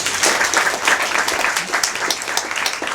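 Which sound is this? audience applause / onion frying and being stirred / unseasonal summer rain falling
audience applause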